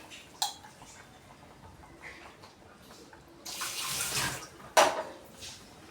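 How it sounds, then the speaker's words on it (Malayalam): Water is poured into a Kerala-style anchovy (netholi) chilli curry with tamarind, a short splashing rush in the middle of the clip between quieter kitchen clatter and a sharp knock. "ആ പുളിവെള്ളത്തിൻ്റെ ഗ്ലാസ്സിൽ തന്നെ കുറച്ചും കൂടി വെള്ളം എടുത്ത് ഇതിൽ ചേർക്കാവുന്നതാണ്"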